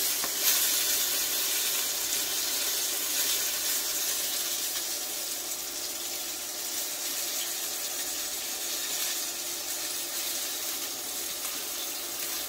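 A hot frying pan hisses and steams steadily during the cooking of pumpkin and millet porridge, a broad continuous sizzle with a faint watery quality and no voices.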